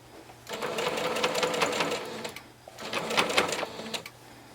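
A sewing machine stitches a pillowcase dress seam in two close, loud runs of rapid mechanical whirring, separated by a brief pause, the way a seam gets locked with a quick reverse.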